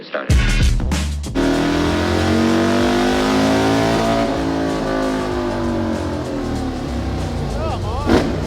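A stock Harley-Davidson motorcycle engine barks to life with a sharp blip, then holds a loud, sustained rev with a strong rumbling drone and rising harmonics, close by, ending on a brief throttle stab.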